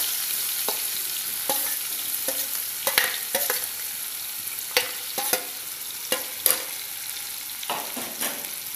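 Chopped onions sizzle and fry in a pan with cumin seeds and asafoetida, a steady close hiss broken by repeated scraping stir strokes of a spoon, with no talking.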